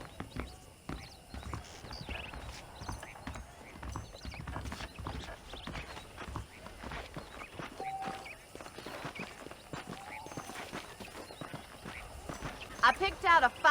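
Horse hooves clip-clop steadily on a ranch in the Western video game Red Dead Redemption, with the footfalls close and rhythmic and a brief whinny near the end. Characters talk over much of it.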